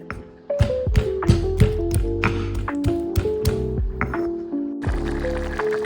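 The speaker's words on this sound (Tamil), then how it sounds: "ஈரலுக்கு தேவையான பூண்டு, சின்ன சீரகம், கொஞ்சம் மிளகு, இதை குத்தி எடுக்க போகிறேன்." Garlic, cumin and black pepper pounded in a mortar, a quick series of sharp, ringing taps and thuds close by, ending in a brief scraping shuffle.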